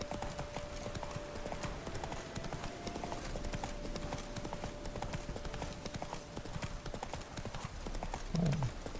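Roach, the horse in The Witcher 3, gallops in a fast, steady clatter of hooves that runs for the whole stretch, with a soft game tone humming underneath and a brief snort near the end.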